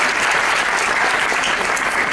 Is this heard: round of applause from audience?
yes